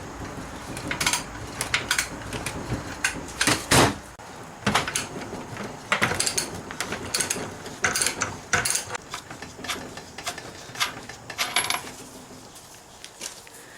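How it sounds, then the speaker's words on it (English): Metal tool work on an F4A42 automatic transmission, with irregular sharp metallic clinks, taps and ratchety clicks close up over about fourteen seconds and no one talking. "I will actually be tightening the special tool nut."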